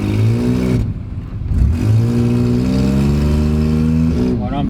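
A small combustion-engine car driving on the road with too much oil in the gearbox, a close droning engine with rising and falling revs as gears change, under talking.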